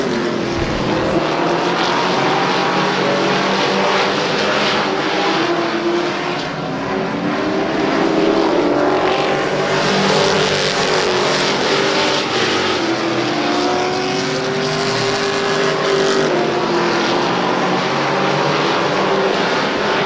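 Stock cars in classic racing at Twin State Speedway in Claremont, New Hampshire, roar loudly and without a break, their engine noise swelling and fading slightly as the cars pass, with no voices over it.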